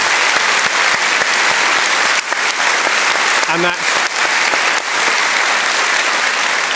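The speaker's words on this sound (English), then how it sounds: "I'd love to lead a great round of applause specifically to them." A theatre audience breaks into loud, sustained applause, dense clapping filling the room throughout, with a brief voice rising over it midway.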